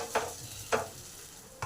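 Ground ginger, onion and garlic paste going into a pan of frying spices gives a soft, low sizzle. Two short scraping stirs stand out above it, and a third begins just before the end.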